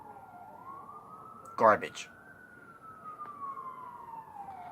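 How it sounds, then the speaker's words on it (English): Faint emergency vehicle siren outside, slowly rising and falling in the background while a voice briefly speaks a single word over it. "Sorry about the sirens, by the way."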